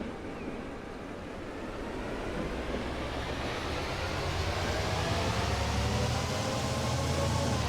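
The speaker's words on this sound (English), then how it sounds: "Oh, trains." A train rolling on the B&O Scenic Railroad in the Transport Fever game, a broad steady rushing rumble that slowly swells in loudness, with no talk.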